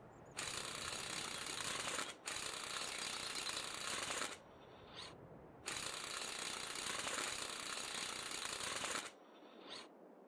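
A tool rapidly tightens bolts in the Farming Simulator 22 video game, producing long, loud, buzzing ratchet-like bursts separated by short pauses, with no voices.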